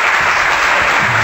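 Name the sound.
audience applause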